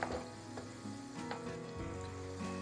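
Beef kidneys Provençal-style, seasoned with salt and pepper, cooking over minimum heat in a pan with a steady low sizzle and occasional stirring clatter, close and continuous.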